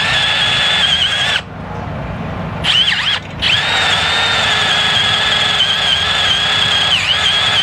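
A power drill bores through metal with cutting fluid, its bit running hot and grinding loudly and continuously, with two short pauses where the motor drops out before resuming.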